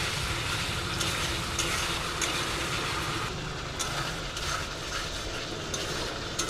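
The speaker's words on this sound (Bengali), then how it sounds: "মশলাটা ভালো করে কষিয়ে নেব।" Spice paste with turmeric, salt and a little sugar frying and being stirred in a pan for hilsa fish curry, a steady close sizzle with scraping stirs and no talking.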